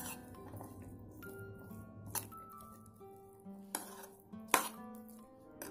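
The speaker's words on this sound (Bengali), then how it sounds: "এবার আমি যে শসা, পেঁয়াজ, টমেটো রেখেছিলাম সেগুলো সব এর মধ্যে দিয়ে ভালো করে মিশিয়ে নেব" Cucumber, onion and tomato being mixed in a bowl, with light clinks and taps of a utensil against the dish plus soft squishy stirring, quiet and close, punctuated by a few sharper clatters.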